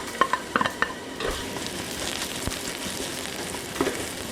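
Onion, ginger and garlic hitting hot oil in a pan while cooking a spicy pork rib curry, with a steady sizzle throughout and a few sharp stirring clatters of a utensil near the start and once near the end.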